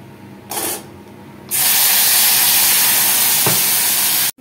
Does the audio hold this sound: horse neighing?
no